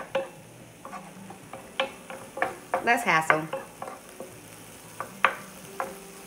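Vegetables frying and being stirred in a single skillet, giving repeated scraping clicks and a brief burst of sizzle near the middle, with a short spoken phrase over the cooking.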